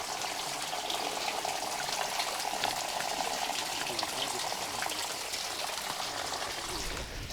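Steady broadband rush of flowing water runs continuously throughout, fairly even in level, with no voices and a faint hiss layered over it.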